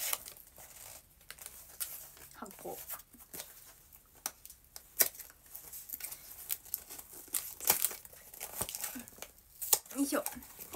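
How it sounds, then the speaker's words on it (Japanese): Plastic wrapping on a present crinkles and tears in irregular bursts, close and fairly quiet, with scattered rustles and brief pauses between handling noises. "プレゼント開封式をしています。"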